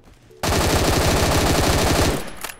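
Rapid automatic fire from an M14 rifle in the Phantom Forces shooter game, one loud, close burst of fast, even shots that lasts about two seconds and then stops.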